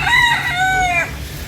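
Rooster crowing on a hillside trail near Las Animas beach in Puerto Vallarta, Mexico: one long, bright, wavering crow lasting about a second, close and loud over faint outdoor background.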